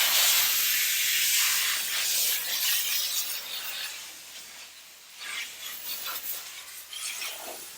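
Chief Steamer 155 (240 volt) steam cleaner blowing a steady, loud hiss of steam across a car's hood, surging and easing slightly with no voices.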